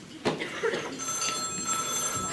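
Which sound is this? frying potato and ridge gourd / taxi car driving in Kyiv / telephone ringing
telephone ringing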